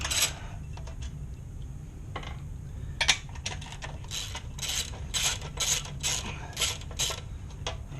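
Bolts being backed out of the case of a pull-string unit, a run of short metallic ratcheting clicks and turns in quick bursts, close and fairly loud, with no voices.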